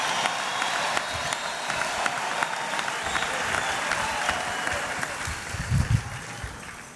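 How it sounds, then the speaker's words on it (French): A congregation at a temple dedication service applauds and cheers in a long, continuous roar of clapping, with a few louder bursts and voices rising near the end. "Je voudrais vous demander une acclamation"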